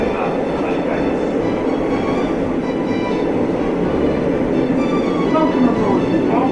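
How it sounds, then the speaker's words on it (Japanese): Steady low rumble and rolling hum of a Chitose Line Rapid Airport train running toward Sapporo in Hokkaido, heard from inside the carriage as a continuous loud drone with faint rail clatter. "千歳線快速エアポート札幌です。"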